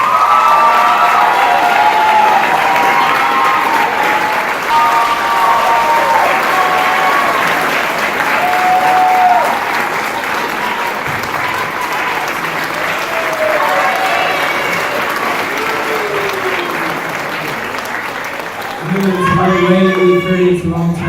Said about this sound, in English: Would you give all of them a round of applause?